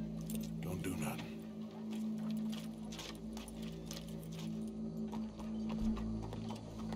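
Horse hooves clip-clop at a steady walking pace in Red Dead Redemption 2, set under a continuous game soundtrack with voices talking over it.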